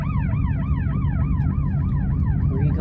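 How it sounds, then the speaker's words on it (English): An ambulance siren passes nearby, its rising-and-falling wail cycling steadily and loudly over low road rumble, with no talking. "Hold on 1 second, ambulance going by."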